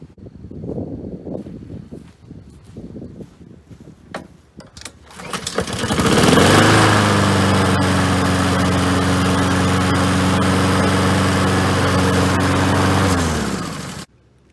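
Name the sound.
Honda GCV 160 self-propelled lawn mower engine running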